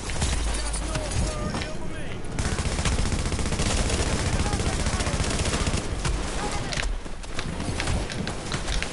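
Enemy gunfire in The Division video game, loud sustained rapid bursts of automatic shots rattling almost continuously with brief lulls, amid game sounds and players talking.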